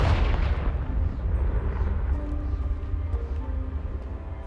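Confringo spell blast in the video game Hogwarts Legacy, a loud booming explosion that hits at once and then rumbles and fades over several seconds, alone with no talking.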